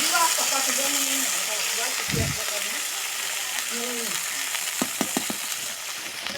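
Fried onions with cardamom, bay leaf and cinnamon hiss steadily in hot oil after a splash of water, a broad continuous sizzle with a thump and a quick run of clicks near the end, a voice faintly underneath.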